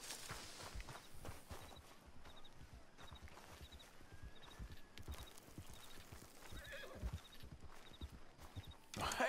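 Horse hooves clip-clopping at a walk in the video game Red Dead Redemption 2, steady rhythmic hoofbeats close by with a soft whinny and faint background ambience.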